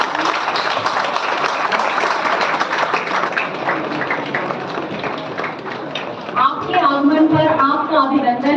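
An audience at an IoT, robotics and automation conference applauds to welcome the chief guest, steady clapping that gives way near the end to a voice speaking over it.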